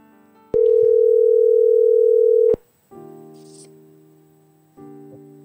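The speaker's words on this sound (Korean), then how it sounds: "한번 우리가 먼저 전화를 연결해 볼까요?" Telephone tones while a call is being connected: a single loud steady tone lasting about two seconds, then a softer multi-pitched ringback tone, repeated after a short pause, with no talking.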